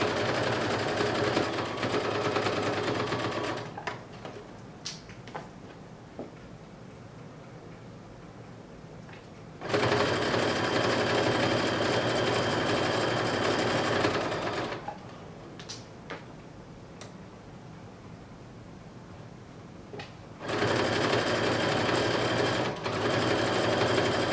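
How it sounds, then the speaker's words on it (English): A sewing machine stitches a basting-stitch seam in blazer fabric, running in three long steady bursts with quieter pauses between them that carry small ticks and handling clicks, close up. "I'm going to go ahead and use a basting stitch just for this sew along"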